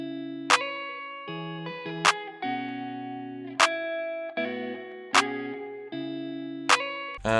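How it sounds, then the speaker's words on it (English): A sharp electronic clap with no effects hits at regular intervals, five or six dry snaps over a sustained synth chord pattern in an FL Studio guitar-based beat. "Next up I added a clap, also no effects on that."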